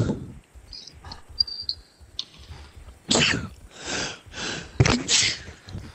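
A single sharp sneeze bursts out mid-session during a Fortnite game, loud and close, followed by a few breathy aftershocks, with game noise and faint chirping underneath.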